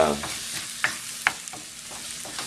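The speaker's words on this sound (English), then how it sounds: "notice how I'm kind of scrambling in the pan" Eggs scrambling in a frying pan make a soft, continuous sizzle, with a few sharp scrapes and taps from stirring over a short stretch.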